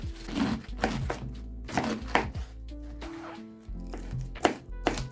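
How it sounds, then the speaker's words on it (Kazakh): A knife finely chopping salad vegetables and cabbage on a cutting board, a run of quick irregular close thuds and crisp cuts clustered in bursts, loud and near, with no talk over them. "Енді осыларды жақсылап майдалап турап аламыз."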